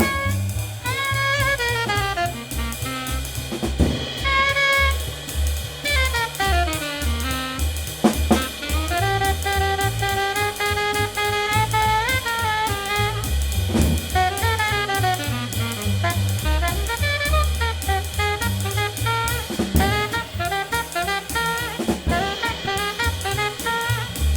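Jazz combo playing with a steady bass and drums underneath, while chordal fills drop into the pauses between melodic phrases. No talking.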